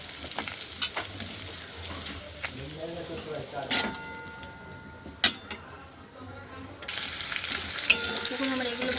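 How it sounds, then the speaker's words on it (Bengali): Ginger, garlic, onion and capsicum frying in oil in a wok, a steady sizzle with stirring scrapes and occasional clinks of a spatula against the pan, growing louder near the end. "এখানে কড়াইতে আমি তেল বসিয়েছি, তেলে ভেজে নেব"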